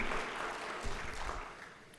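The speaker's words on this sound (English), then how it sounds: "Let's give her another round of applause." An audience at a medical lecture gives a round of applause, a soft, steady wash of clapping heard from a distance and sustained for the full two seconds.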